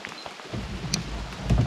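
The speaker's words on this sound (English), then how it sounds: "It's nice, but it's definitely raining." Rain pouring down outdoors during a fishing trip, a steady close hiss of drops hitting surfaces, with low rumbling and occasional heavier splats, no talk.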